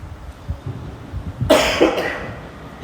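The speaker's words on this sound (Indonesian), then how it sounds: "saya memang rotok batuk." A man coughs a few times into a microphone during a religious talk, with a couple of rough low bursts and then one sharp, loud cough before it trails off.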